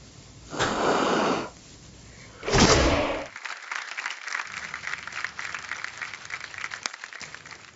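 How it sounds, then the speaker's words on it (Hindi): Inside the Bigg Boss house, two short bursts of group clapping ring out close by, each lasting about a second, followed by quieter scattered noise and movement. "कोई ताली वाली बजाने की जरूरत नहीं है।"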